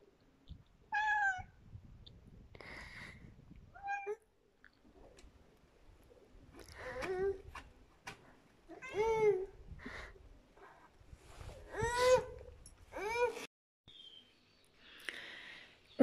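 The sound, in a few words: cats meowing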